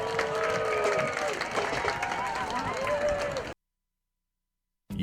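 A stadium crowd applauding and cheering for the 2024 Utica High School marching band at a high school football game, a steady loud wash of clapping and voices under an announcer's talk, then a sudden cut to silence.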